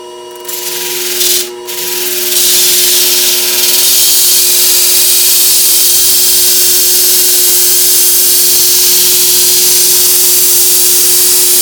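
A WorkSharp power sharpener grinds along a khukri knife blade with a loud, close, continuous abrasive whir. A short break interrupts it near the start, and steady grinding then continues to the end.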